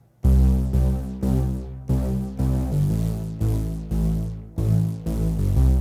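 A deep synth bass using the "210 Movie Chase" preset pulses in repeated, evenly spaced notes, each hitting hard then decaying, with a throbbing, driving rhythm and no voices.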